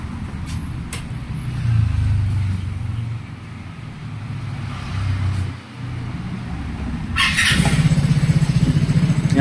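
A motorcycle engine starts partway through with a sharp click and crank, then settles into a steady, loud idle, heard up close over a low background rumble.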